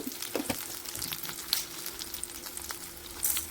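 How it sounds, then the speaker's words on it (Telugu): Onion, curry leaves, lentils, mustard seeds and dried chillies fry in hot oil for Karnataka-style bendi sukka, giving a steady quiet sizzle with a few sharper pops and stirring clicks and no talk. "మినప్పప్పు ఆవాలు ఎండుమిరపకాయలు వేసుకొని కొంచెం గోల్డెన్ కలర్ వచ్చే వరకు ఫ్రై చేసుకోవాలి"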